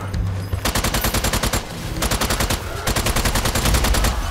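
Rapid automatic gunfire in the Strange Brigade video game's horde mode, dense bursts of loud shots with brief gaps between volleys.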